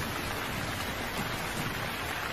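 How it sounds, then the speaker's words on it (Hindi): Heavy rain pours down in an animated children's story about birds setting out for a bulbul's house, a steady dense hiss with no breaks and no voices. "लेकिन इतनी तेज बारिश में हम जाएंगे कैसे?"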